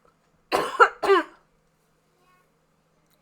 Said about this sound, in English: It's just this cough won't go all the way away.